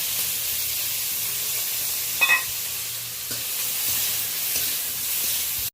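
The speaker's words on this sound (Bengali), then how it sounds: "উচ্ছেতে লবণ হলুদ মাখিয়ে রেখেছিলাম, উচ্ছেটা একটু হালকা করে ভেজে নেব" Bitter gourd coated with salt and turmeric fries in oil with a continuous close hiss and sizzle, marked by a brief stirring scrape in the middle and softer shifting noises toward the end.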